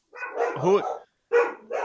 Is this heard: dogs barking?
yes